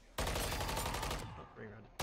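Rapid automatic gunfire from a video game weapon, a dense burst of loud shots lasting about a second, then a brief pause before firing resumes at the end.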